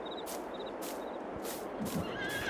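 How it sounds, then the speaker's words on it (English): Horse in Farming Simulator 22 neighing several times in short bursts, fairly quiet, over a soft hiss of ambient noise and a few light hoof clops. "We'll check on the horses here."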